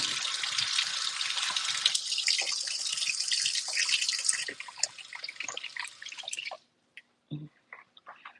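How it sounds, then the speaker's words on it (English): Tap water runs steadily over an apple being rinsed, a close, broad hiss for several seconds before it cuts off, leaving a few scattered drips and clunks. "I am just rinsing off a apple"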